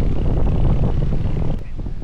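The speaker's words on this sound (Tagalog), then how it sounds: "Ang lakas ng hangin, maalon yung yung lawa, magalaw yung tubig." Strong wind sweeps across the open shore of Taal Lake, roaring and buffeting the microphone in a loud, steady rush that eases slightly near the end.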